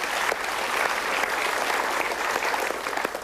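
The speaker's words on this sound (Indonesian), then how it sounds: "Kita berikan tepuk tangan." A studio audience at a television talk show breaks into applause, a thick, continuous roar of clapping that holds steady and tapers slightly at the end.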